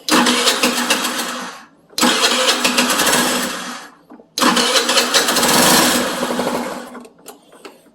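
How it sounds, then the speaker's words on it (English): Small moped engine idling and revving in three sustained bursts as its carburetor mixture screw is tuned, with brief drops to near silence between runs; loud, close, buzzy and uneven. "Now we'll try to bring up the idle through the mixture screw."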